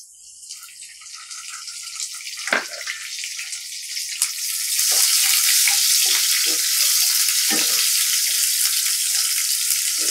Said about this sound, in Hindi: प्याज को हम थोड़ा सा भुनेंगे इसको हमें गलाना नहीं है हल्का सा भुनना है